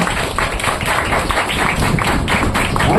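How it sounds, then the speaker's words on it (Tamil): A church congregation claps hands together in a fast, dense burst at close range, sustained loudly throughout with no speech over it. "கை தட்டுங்க"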